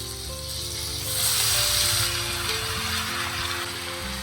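Chicken tipped into a hot pan of ginger garlic paste and dried red chilli for Pallipalayam chicken, a steady loud sizzle and hiss that swells briefly as the meat lands, with low tonal hum beneath.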